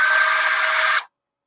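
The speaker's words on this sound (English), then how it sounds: "She's going to squeeze it however she feels fit, however she's most comfortable with, and she's going to drill down" A handheld power drill whirs steadily at high speed for about a second, then stops abruptly, close and fairly loud with no talking.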